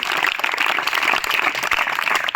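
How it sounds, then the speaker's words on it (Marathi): Audience clapping steadily at a Marathi school function welcoming a professor, a dense, continuous patter of many hands throughout with no talk over it. "सर्वजण त्यांचा टाळ्या वाजून स्वागत करूया"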